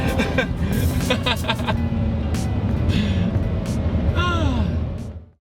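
A Mazda rotary-engine car accelerates at full throttle halfway through a corner with a loud, sustained, buzzing engine note that climbs in pitch before cutting off abruptly. A voice exclaims over it.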